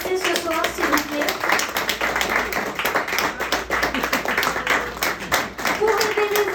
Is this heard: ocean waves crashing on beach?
no